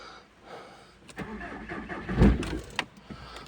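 Car engine cranking and catching after standing in frost in snowy winter weather, a brief rising starter whir followed by the motor firing with a loud surge, then settling toward a rough idle.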